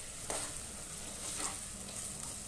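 Tomatoes and ginger-garlic paste fry in a pan for vegetable pulao, a faint, steady sizzle with a few soft stirring scrapes, no voices.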